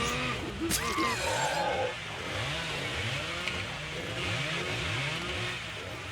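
Leatherface's chainsaw in Dead by Daylight revs in a rapid, repeating sawing rhythm, loud and close, with a brief burst of other game noise near the start.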